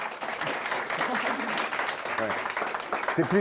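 Steady, fairly loud applause from a group fills a school room during a tour of an unusual campus without classrooms, with a voice briefly audible over the clapping near the end.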